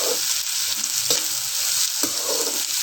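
Green chilies and onions frying in a pan for achari bhindi give a steady, close sizzle, with a few soft stirring scrapes breaking through.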